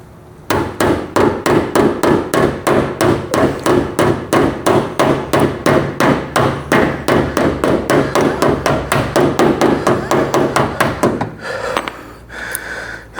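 A hammer strikes a damaged car body panel over a dolly in a fast, even run of about forty sharp metallic blows, loud and close, before stopping abruptly.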